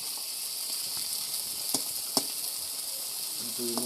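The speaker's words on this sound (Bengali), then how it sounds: "দেখেন মাছ ভাজা" Fish frying in hot oil for a dhaba-style fish fry, a steady bright sizzle close up with two brief sharp clinks, no talking.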